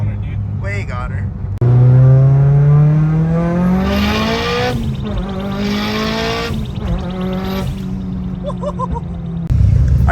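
A Mitsubishi Evo engine revs hard while being driven, its pitch climbing and falling through repeated gear pulls, loud and close in the cabin, with brief voices at the start and end.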